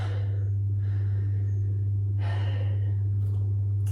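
Two noisy, breathy exhales during a yoga HIIT workout, each a soft whooshing breath over a steady low electrical hum, with no talking.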